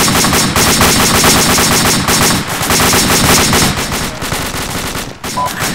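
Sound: gunfire in video game Arma 2

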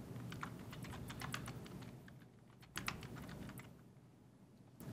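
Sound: typing a meeting title on a computer keyboard

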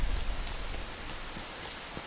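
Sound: heavy rain falling, from a video game

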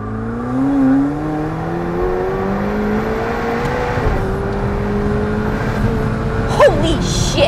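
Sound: McLaren 720S accelerating

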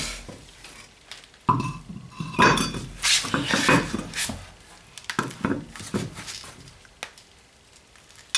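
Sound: wheel rim placed back onto Opel Corsa D hub

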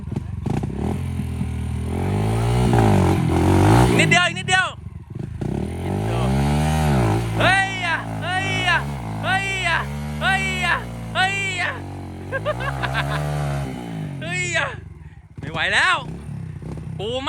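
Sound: motorcycle engine revving with throttle on a trail

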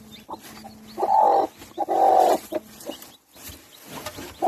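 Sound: broody hen clucking

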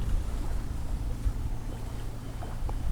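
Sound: wind blowing from the front

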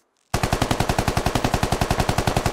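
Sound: semi-automatic rifle fired in full auto, video game

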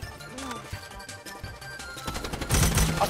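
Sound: gunfire in the video game Strinova

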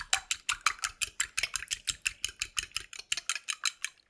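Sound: whisking an egg

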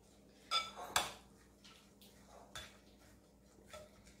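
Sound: stirring chicken shawarma marinade in a bowl

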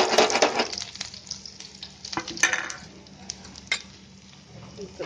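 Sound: spices sizzling in hot oil tadka

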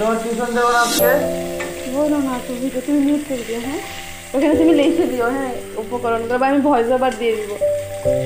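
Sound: potatoes frying in a pan

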